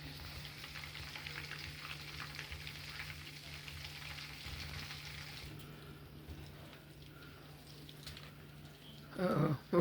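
Butter melts and foams in a pan for brownies, making a soft, steady sizzle with a faint hum beneath it. The sizzle quiets partway through, then a few louder clinks and bumps come close at the end. No voices are heard.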